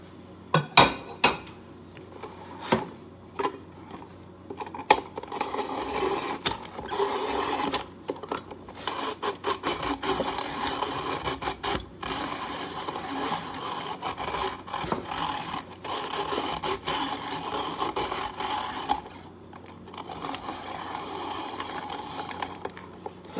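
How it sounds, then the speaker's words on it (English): Raw carrot scraped against a kitchen grater for a simple French salad, a steady run of rapid rough rasping strokes close up, with a few clanks at the start and no talking. "My carrots, I'll grate it."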